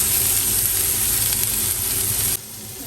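Cabbage frying in a pan for chow mein, after chilli has gone in, gives a loud, steady, close hiss and sizzle that drops abruptly to a quieter simmer near the end.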